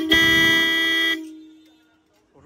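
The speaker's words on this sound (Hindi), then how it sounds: "यहाँ पर लगा दिए गए रूट्स के हॉर्न, एक इस साइड में और एक उस साइड में" A single loud, steady blast from an aftermarket Roots horn on a Royal Enfield Bullet Standard 350 motorcycle rings out for about a second, then cuts off and trails away into quiet.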